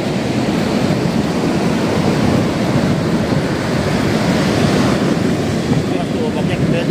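Big sea waves surge loudly and continuously, a dense, unbroken wash of surf close by with wind buffeting the microphone.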